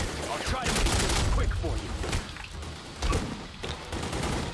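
Bursts of gunfire from The Godfather 2 video game crackle in quick rapid volleys with thuds, mixed with a player talking over the game.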